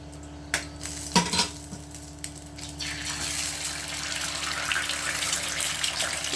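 Egg cracked and poured onto a hot pan beside a maida paratha for an egg kati roll: a couple of quick clinks, then a steady, fairly loud sizzle that builds and holds.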